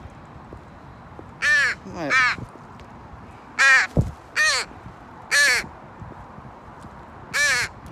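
A crow caws repeatedly outdoors in San Jose, several loud, harsh calls spaced through the stretch, with a brief spoken word in between and faint background noise.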